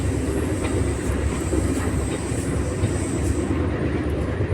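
Overnight passenger train running from Cairo to Aswan, a steady loud rolling rumble of wheels on track with faint rhythmic clatter and no speech.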